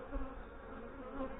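Honey bees hum around the frames of an open hive, a faint, steady buzzing drone lasting just over a second.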